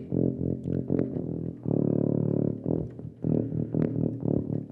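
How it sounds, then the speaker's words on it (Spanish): Sampled tuba from the Uvi Ircam Solo Instruments library sounding very low pedal tones, several deep buzzing notes pulsing and sustaining one after another, loud and close with no talking. "Tuba al pedal tono."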